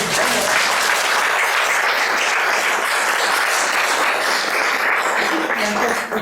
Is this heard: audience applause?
yes